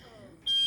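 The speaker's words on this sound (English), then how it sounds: "that smoke detector's been going off really since just after I lit it" A smoke detector blares a loud, steady high-pitched electronic tone that starts abruptly partway through a brief moment, following a few muffled indistinct sounds.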